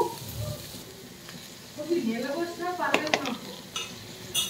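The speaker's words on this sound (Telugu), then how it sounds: "అలానే కొంచెం పసుపు వేసేసి చక్కగా కలబెట్టేసుకుని" Cabbage curry with carrots, tomato, green chillies, salt and turmeric being stirred in a pan: soft scraping and a few light clinks of the spoon against metal over a faint background sizzle.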